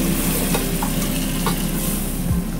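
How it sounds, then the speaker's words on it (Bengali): Carrots and tomato stir and sizzle in a frying pan on a home stove, with a steady close hiss of frying broken by a few scraping stirs of a spoon, no voices. "এখন গাজর দিতেছি, একটু নেড়ে নেবো, তাহলে ভালো হবে। টমেটোটা ঢেলে দিলাম"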